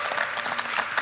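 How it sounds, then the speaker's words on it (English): A crowd bursts into dense applause and cheering at a Clash of Clans Champions War League finals event, brief and loud with no pauses. "The crowd goes wild."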